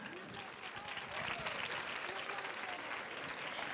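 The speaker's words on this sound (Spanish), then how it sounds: "Vamos a darles un fuerte aplauso para que suban al escenario a Ana Quero López y Adrián López." A crowd at a children's crowning gala during a town fair applauds continuously, a dense, even clapping wash heard from a distance, with a faint voice mixed in.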